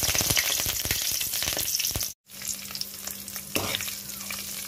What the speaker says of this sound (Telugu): ఇప్పుడు ఈ కరివేపాకు తీసి ఆయిల్లో వేసుకుందాం.